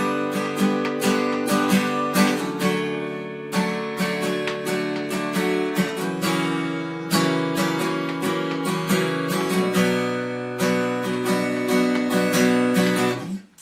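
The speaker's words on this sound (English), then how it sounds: "that's the strumming pattern we're going to use for the chorus" An acoustic guitar strums a chorus pattern, with steady rhythmic down and up strokes across chord changes, bright and close, then stopping abruptly at the end, with no voices.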